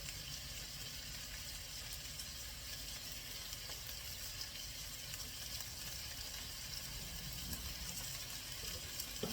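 Chopped onion with a pinch of sea salt sizzles in a pan while cooking a Hungarian dish, giving a steady, soft hiss that runs unbroken throughout with no voices.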